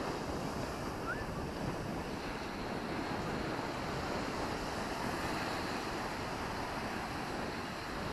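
Steady roar of ocean surf and gusting wind buffeting the microphone on a beach in Faro, Portugal, loud and continuous throughout with no pauses.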